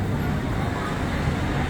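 Busy road traffic at the Sukhumvit and Asok junction in Bangkok, a steady, dense, close roar of engines and tires that continues without a break.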